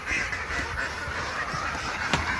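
Ducks quack on a duck farm that also runs a fish project, a continuous dense chorus of calls heard close and fairly loud with no talking.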